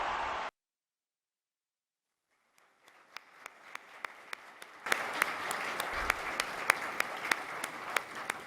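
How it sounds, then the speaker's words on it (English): Audience applause fills a ballroom at a Hall of Fame induction ceremony, building from faint scattered clapping after a short burst and silence into a loud, sustained ovation with sharp individual claps standing out near the end. "And now I'll keep that applause going"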